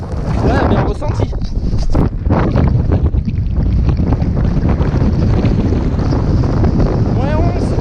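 Strong 50 km/h wind at minus 11 degrees on a Dévoluy mountain hike buffets the microphone in a loud, constant roar, with gusty rumbling throughout and faint voices underneath.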